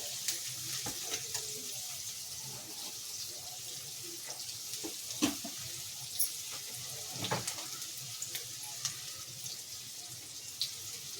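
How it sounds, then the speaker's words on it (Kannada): Onions frying in oil in a pan for an egg sambar, giving a soft, steady sizzle with scattered small pops and crackles throughout, fairly quiet and close. "ಈರುಳ್ಳಿ ಎಲ್ಲ ಸ್ವಲ್ಪ ಸಾಫ್ಟ್ ಆಗೋವರೆಗೂ ಚೆನ್ನಾಗಿ ಫ್ರೈ ಮಾಡ್ಕೊಳ್ಳಿ ಎಣ್ಣೆಯಲ್ಲಿ"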